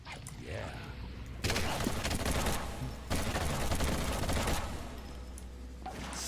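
Rapid automatic gunfire in Postal 4, sustained bursts of loud overlapping shots with brief gaps, ringing with game noise underneath.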